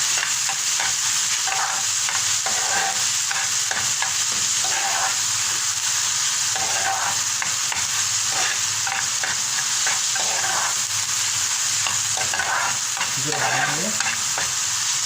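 Onions fry in a pan with a little salt while being stirred, giving a steady close sizzle broken by repeated scraping stir strokes, with no talking.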